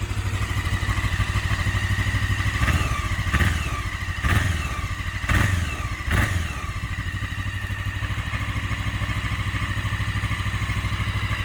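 A Honda CB500S motorcycle idles steadily with a metallic clutch-basket rattle and clatter, marked by a few sharper knocks partway through.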